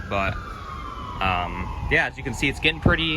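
Emergency vehicle sirens wail in the distance outside a storage unit, one long falling tone running under a person talking close by.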